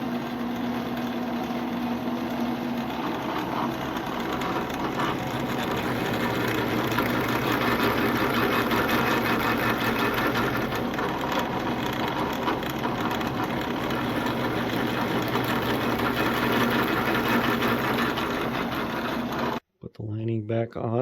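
A drill press with a counterboring bit cuts into brake band material backed by wood, a continuous whirring, grinding mechanical drone held steady for about twenty seconds, close and fairly loud, then cut off suddenly.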